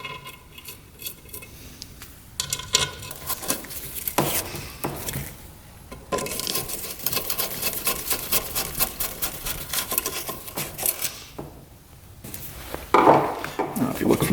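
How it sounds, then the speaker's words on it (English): Two screws being driven into an engine cover on a $300 quad: a run of close metallic clicks, scraping and tool rattles, irregular and busy, with a louder clatter near the end. "Get the two screws in."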